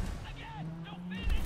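Gunfire in the shooter game Wolfenstein The New Order cracks out in a couple of short bursts, mixed with game effects and heard under a voice talking.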